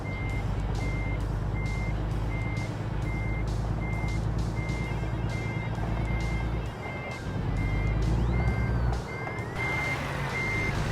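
A Kenworth truck in American Truck Simulator reversing, with a steady series of regularly spaced backup beeps over a loud, constant diesel engine rumble, and a hiss of air brakes near the end.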